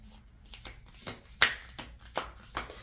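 Tarot cards being shuffled by hand in a quiet room, a run of soft riffling flutters and sharper card snaps, one louder burst near the middle, close and alone with no talk.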